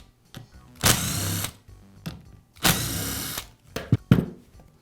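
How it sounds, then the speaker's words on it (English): A power drill or screwdriver backs out the screws holding the sanding pad on a Porter Cable sander, with three separate whirring bursts of the motor, each close and loud, broken up by clicks and handling noise. "I'll remove the screws from the pad."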